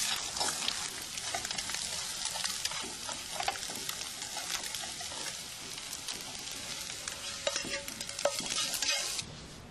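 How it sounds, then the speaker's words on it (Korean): Fried eggs sizzle and crackle steadily in a pan while a utensil scrapes and stirs them, a quiet, continuous hiss broken by small clinks throughout. "계란 후라이가 다 터져서 계란찜이 됐습니다."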